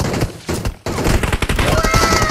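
Rapid bursts of gunfire sound during a PUBG Mobile match. The close, loud volleys break off briefly and then resume, with a voice faintly present in the mix.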